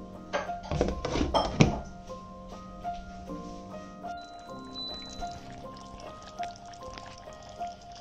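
A lid is set onto a pot of simmering drumstick and prawn gravy, giving a cluster of close metallic clinks and clatters early on, followed by a quieter background of low kitchen hum.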